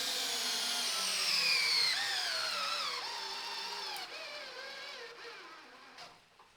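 A cordless drill driver bores into wood in low gear, its motor whine sliding steadily downward in pitch as it bogs under load, continuous and fairly close for several seconds before easing off.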